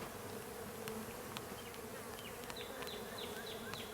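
Honeybees buzz in a dense, continuous drone inside an open hive during an inspection, faint and steady with small rises in pitch as individual bees fly close.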